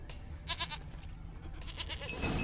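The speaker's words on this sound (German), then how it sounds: "Komm her, Ziege." Game goat from The Witcher bleats in a short burst of repeated, wavering cries at mid distance, over a steady low ambient drone with a brighter rustling swell at the end; no talk.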